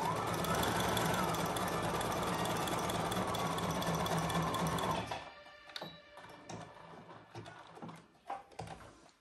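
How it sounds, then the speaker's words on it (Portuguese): A sewing machine running a zigzag stitch along the edge of a placemat, a loud, fast, steady mechanical whirring for about five seconds, then stopping, leaving faint clicks and handling noises. "eu passo com o zigue-zague um pouquinho para cima do zigue-zague que eu tinha começado"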